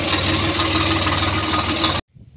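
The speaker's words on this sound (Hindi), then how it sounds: "ट्रैक्टर चल रहा है" Farm tractor engine running near a wheat field at sowing time, a loud steady low rumble with a regular chugging pulse, heard alone, cut off sharply after about two seconds.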